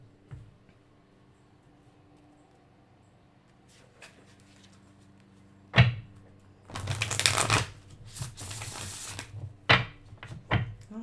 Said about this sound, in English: we're going to go ahead and get shuffled up here